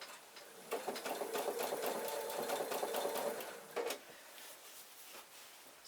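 A sewing machine stitches a quilt block in a steady run of fast, close stitching that pauses briefly near the end before a short burst starts again.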